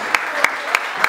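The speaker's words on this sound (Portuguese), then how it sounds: "Uma salva de palmas para o DJ." At a live show with a DJ, four crisp claps land in an even, quick rhythm over a low steady background, sounding like the audience clapping along in time.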